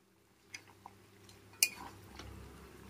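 Fried potatoes stirred into simmering chicken curry in a pan: a few faint scrapes and taps of a spatula on metal, with one sharper clink near the middle, over a quiet low background hum.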